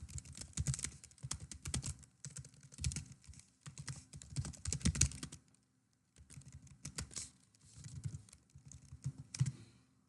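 Bursts of typing on a computer keyboard as login credentials are entered into a sign-in page, with rapid clustered keystrokes in several runs separated by short pauses, close and moderately loud, no voices.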